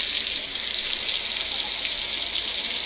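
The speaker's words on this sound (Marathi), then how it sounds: "हे बघा मी फ्राय करायला ठेवलं." Bombay duck (bombil) fish, coated in ghati masala, chutney powder, turmeric and salt, frying in a pan with a steady, close, even hiss of sizzling oil and no pauses.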